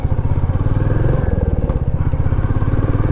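A motorcycle rides the road from Bengaluru toward Mysuru's Chamundi Hills, its engine putting out a steady, close, throbbing drone that holds level for the whole moment, with no talking.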